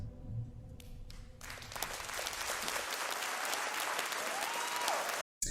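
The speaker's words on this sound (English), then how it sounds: "let's give her a nice round of applause again" Live audience applauding after a performance at a 2020 album release show, a steady dense wash of clapping lasting several seconds, building from a quieter start and cut off by a brief dropout near the end.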